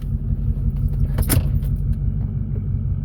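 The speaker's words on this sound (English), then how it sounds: "the fucking almost gas drive welder's like almost out of gas. Not want to run good now." A gas-driven welder engine, nearly out of fuel and running poorly, gives a steady low rumbling idle with a short metallic rattle partway through.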